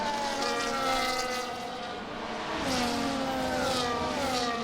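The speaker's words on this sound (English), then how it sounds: "I'd love to hear the Cadillac engine" A Cadillac Formula 1 car engine in the F1 25 video game at the 2025 Australian Grand Prix, a loud, steady high-pitched whine whose pitch dips and climbs again through gear changes and throttle shifts.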